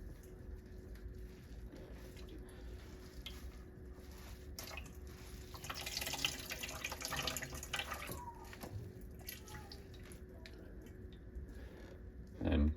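Water is squeezed out of grated potatoes by hand for latkes, giving soft wet squishing and trickling drips into a bowl, quiet and close, with a brief louder handling noise at the end.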